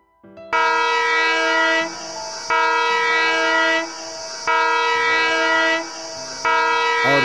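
A locomotive horn sounds four times, long, loud, steady blasts separated by brief gaps, with the rumble of the engine underneath.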